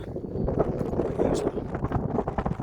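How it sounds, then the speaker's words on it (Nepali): Strong, gusty wind buffets the microphone on a barren, treeless high mountain ridge in the Himalaya, a continuous loud rumble with a faint voice mixed in. "हावा यस्तो चलेको छ"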